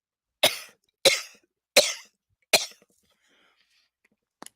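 Four sharp, close coughs from one person come in an even rhythm about two-thirds of a second apart, then quiet with a faint throat sound at the end.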